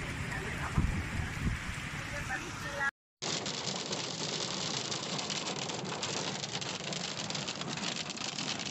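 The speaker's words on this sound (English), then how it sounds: "Social network users recorded the heavy rain accompanied by hail that floods Azcapotzalco" Heavy rain with hail pours down during a flooding storm in Azcapotzalco, Mexico. It makes a dense, loud, steady roar of hiss and patter, broken only by a brief dropout partway through.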